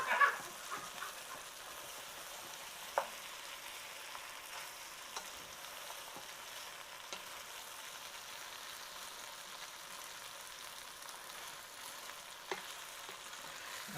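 Potatoes sizzling and frying quietly in a pan, a soft continuous crackle with a few sharp scrapes and knocks of stirring scattered through, no voices.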